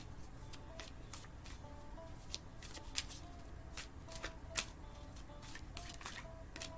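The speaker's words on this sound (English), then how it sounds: "I want to pull one more card to see where we're going" Cards shuffled for a card reading, a soft papery riffle with repeated crisp flicks and snaps in an uneven rhythm, close and fairly quiet over a low background hum.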